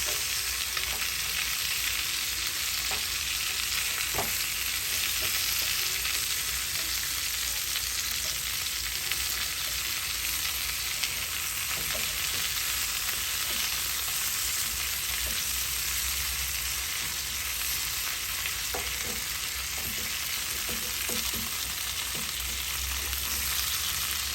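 Lamb chops frying in a pan with garlic, thyme and butter, a steady close sizzle and crackle running the whole time with occasional small pops and a faint stir, no talking.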